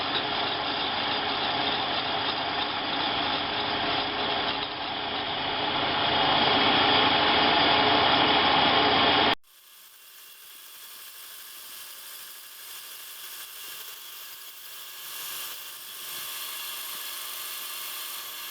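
A machine tool taking a tenth-of-an-inch cut on a center height tool part, a steady loud grinding mechanical whir for about nine seconds that stops abruptly, leaving a faint, quieter machine hum afterward.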